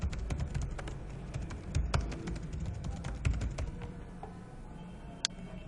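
Rapid, uneven clicking of keys on a computer keyboard, close and crisp, a steady patter of taps with a few harder strokes and no talk over it.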